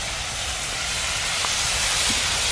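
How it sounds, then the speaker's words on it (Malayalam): Water poured into hot fried chilli and pickle masala for a date pickle sets off a loud, steady steam hiss that fills the whole stretch without pause. "ഇനി കുറച്ച് വെള്ളം ഒഴിക്കാം."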